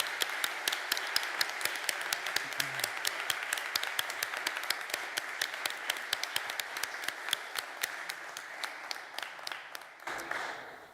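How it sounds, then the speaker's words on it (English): Guests at a moot court finals and awards ceremony applaud everyone. The clapping is fairly quiet, with distinct individual claps in a steady patter that continues for about ten seconds before tapering off. "I think we can give an applause for everyone"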